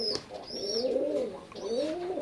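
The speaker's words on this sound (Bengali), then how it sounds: "স্ক্রিনে এখন যে কবুতর জোড়া দেখতে পারতেছেন, ওমান ব্লাড লাইনের এক জোড়া ব্রিডার পেয়ার।" A breeder pair of Oman blood line teddy pigeons coos close by in a steady string of low, rolling calls, with no talk over them.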